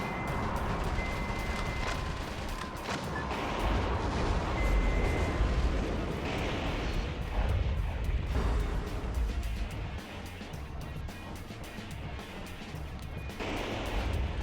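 Rocket launcher firing in Metal Wolf Chaos XD: heavy booming blasts and rumbling explosions that come in clusters over a dense roar of combat noise, loud and close, with a voice talking over parts of it.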